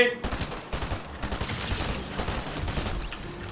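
Bursts of gunfire in a Fortnite match ripple loudly through the scene in quick rattling volleys, with someone talking excitedly over the shooting.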